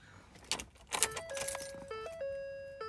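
Car keys jangling in a brief burst of bright metallic clinks, followed by steady electronic chime tones from the car as it is opened, fairly faint and close.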